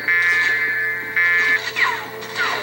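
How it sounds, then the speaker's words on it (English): A blaring alarm in Medal of Honor Frontline, a loud, steady electronic tone repeating in long bursts with short breaks, mixed with sweeping higher tones. "Let's at least turn off that alarm. It's pretty annoying."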